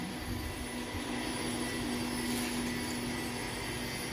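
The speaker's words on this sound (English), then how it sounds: "The blowers are all working." Blowers in an Electrovert OmniMax 10-zone reflow oven run with a steady, even roar and a constant low hum, unbroken throughout.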